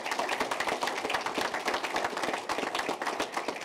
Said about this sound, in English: let's give our board a round of applause